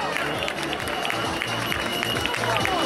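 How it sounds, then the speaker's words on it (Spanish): Spectators clap and cheer for runners arriving at a firefighters' race finish line, a steady dense crowd noise with a voice and rhythmic music-like tones underneath throughout. "Venga ese aplauso más fuerte."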